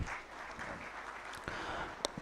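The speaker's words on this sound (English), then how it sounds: "another round of applause for the Guild President" Applause for the Guild President at a university career fair, a soft wash of clapping with a few sharper claps standing out, fairly faint and distant.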